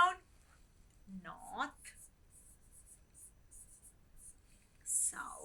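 A teacher writes compass directions on a board during a grade 8 maths lesson, making quick, faint scratchy strokes in short bursts, with a brief spoken word between them.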